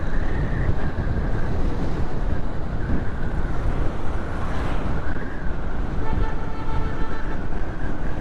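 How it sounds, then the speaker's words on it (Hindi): Strong wind roars across the microphone in gusty, continuous blasts on Jamshed Road in the Lines Area, loud and close, with a faint engine drone beneath. "ओहो, हवा की आवाज़ें शू शू शू।"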